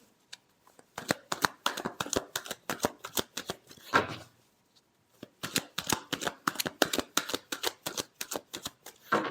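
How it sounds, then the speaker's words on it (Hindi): Tarot cards being shuffled by hand in rapid riffling bursts, two runs of quick crisp flicks separated by a brief pause and a soft rustle, close and clear with no speech. "Last shuffle."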